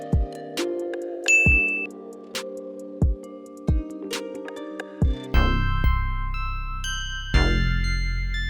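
A series of bright metallic dings and chimes ring out one after another with short decays, the last two fuller and longer, clear and close with no voices.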